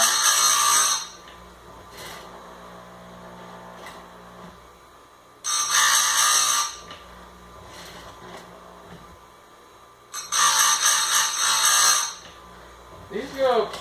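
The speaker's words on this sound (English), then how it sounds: "I've always been able to sharpen skip tooth chain" A skip tooth chainsaw chain is sharpened on a grinder in three loud, harsh bursts of wheel-on-steel grinding, each about a second long. Quieter low shop noise fills the gaps between them.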